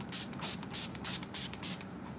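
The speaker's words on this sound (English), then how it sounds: "Just spraying my face and then I'm gonna put 1 more layer" Setting spray is misted onto a face, a run of about six short, crisp hissing bursts in quick rhythm, close and fairly soft, with no talking.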